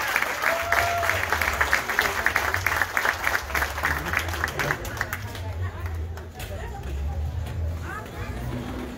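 A crowd at a political party rally claps for a guest, with crisp, rapid clapping at first that gives way to an announcer's amplified voice and general murmur over a softer tail of applause.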